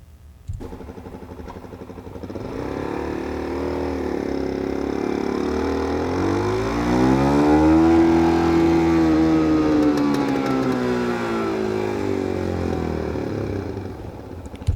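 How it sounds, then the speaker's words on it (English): A Suzuki motorcycle engine revs in one long ramp, climbing steadily to a peak and easing back down. The sound is loud and close, with a rough mechanical drone and no talking. "So this is the Suzuki motorcycle."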